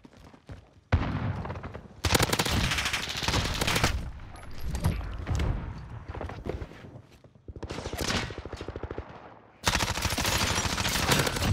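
Bursts of rapid MP5 submachine-gun fire in Modern Warfare come in several loud rapid-fire volleys separated by brief pauses, mixed with game effects.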